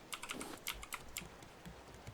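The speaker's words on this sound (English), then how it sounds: "what kind of keyboard you got, and how much are they paying you for noise?" Rapid keystrokes on a computer keyboard during a Raft gaming session, a steady patter of crisp clicks heard near and fairly faint, with no voices.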